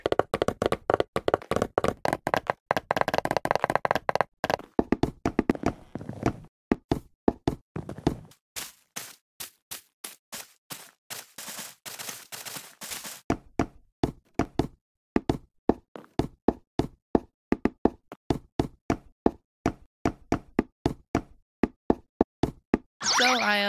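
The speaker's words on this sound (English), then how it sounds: "I think the sound of placing blocks is so satisfying" Rapid series of short, percussive Minecraft block-placing thuds, rhythmic and close, with bursts and brief pauses throughout; no voices.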